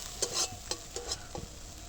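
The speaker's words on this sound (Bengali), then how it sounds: "আর জল লাগবে না, তেলটা ভালো করে একটু ছাড়িয়ে নিই।" Spice paste frying in oil in a pan, cooked down until the oil separates, with a handful of soft, quick stirring scrapes and a low sizzle nearby, no speech.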